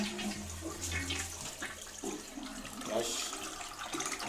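A toilet is flushed to drain its tank during a fill valve replacement, with water rushing and gurgling loudly for several seconds, swirling then tapering as the bowl empties.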